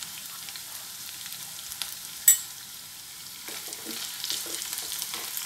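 Capsicum and potato curry being stirred in a pan with turmeric, soft sizzling and scraping of a spoon, with a sharp clack partway through and gentle frying sounds after.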